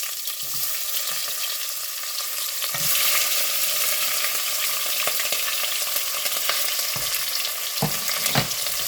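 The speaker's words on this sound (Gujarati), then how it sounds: "તેની અંદર મેં 1 શિમલા મરચું અડધું લીધું છે, અડધું કેસરી મરચું લીધું છે, 1 ડુંગળી લીધી છે અડધી, તે નાખીશું।" Half a capsicum, half an orange pepper and half an onion frying in a pan over low heat for chickpea pulav, a loud continuous sizzle with scraping stirs and a few sharper utensil knocks near the end.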